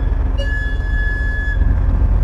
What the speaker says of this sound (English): but that's the sound of a whistle.